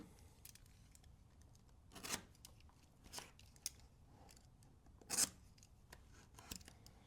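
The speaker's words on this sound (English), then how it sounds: "take a razor blade and make some slices" A razor blade slices through tape in several short, sharp scraping cuts, spaced irregularly over a quiet background, close and crisp.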